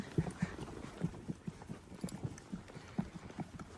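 Horse hooves clip-clop in a steady, brisk rhythm on flat ground during an endurance ride, the regular thuds fairly faint against light outdoor background noise.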